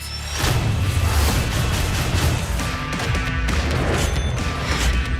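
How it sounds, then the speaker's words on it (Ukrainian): Loud, continuous crackling and booming bursts of fireworks, dense and close, with rapid pops layered over deep rumbling thuds. "Зараз буде салют!"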